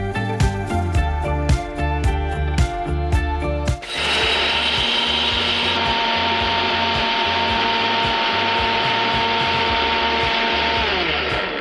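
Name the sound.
mixer grinder grinding peanuts, chana dal and dry red chillies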